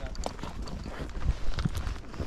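Hooves of a Missouri Fox Trotter thud and clop on a downhill trail in Empire Mine State Park, a few soft, uneven close steps over faint outdoor background.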